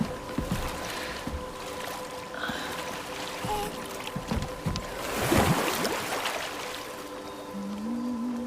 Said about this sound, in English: Do you enjoy the gentle waves, little one?